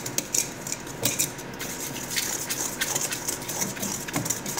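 Flour is whisked into clafoutis batter in a bowl, making quick, light, rhythmic ticks and clinks of the whisk against the bowl, close and steady with soft background hum.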